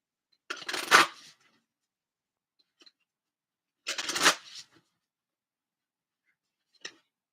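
Cards from the Voice of the Souls Oracle deck being shuffled in two separate bursts of papery riffling, close and fairly quiet, with a tiny tick after each pause and a short final flick.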